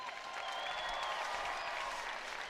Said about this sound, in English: Let's give yourselves a round of applause real quick.